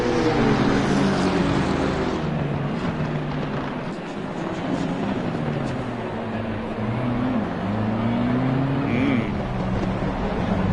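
Race cars roar off the line at a race start at the Nürburgring, a McLaren pulling away, engines loud and continuous with rising pitch sweeps as they accelerate, brief voices under the din.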